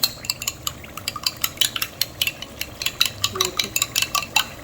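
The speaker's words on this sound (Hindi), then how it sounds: "इसको हल्का सा हम फेंट लेंगे अंडों को" Two eggs are lightly beaten in a bowl for suji halwa, a rapid run of sharp utensil clicks and taps against the bowl, close and steady, with no talking.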